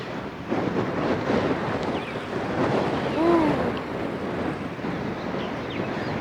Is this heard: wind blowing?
yes